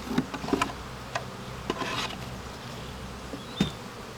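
Honeybees in a weak nucleus hive buzz and shift as smoke is puffed over them, a low steady hum broken by several short rasping scrapes and clicks close by, with no talking.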